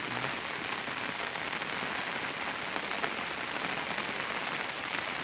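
Steady rain falls on a surface outdoors during a fishing trip in Thailand, a dense, even hiss of drops that continues unchanged with no voices.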